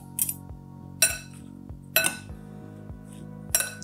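Pasta salad dressed with olive oil and red wine vinegar is tossed in a bowl, giving four separate clinking, scraping knocks of utensils against the dish at roughly one-second intervals, close and fairly quiet with no talk.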